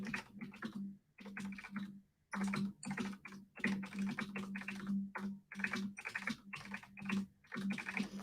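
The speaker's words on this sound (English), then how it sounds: "Just real angry typing." Someone types quickly and hard on a computer keyboard, clattering in fast bursts with short pauses between them. The sound is close and fairly quiet.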